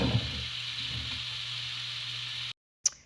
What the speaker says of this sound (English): Give the mushrooms a good wash and just add it to that mixture and just saute it down together.